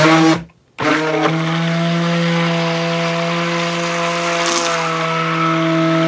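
A plug-in smoothie blender mixes homemade acrylic pouring medium, a loud steady motor whine that cuts out briefly near the start, then restarts and runs continuously at close range.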